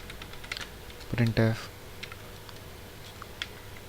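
Keys clatter on a computer keyboard while C code is typed, quick light clicks scattered through the clip with a brief spoken moment in the middle, close and fairly quiet.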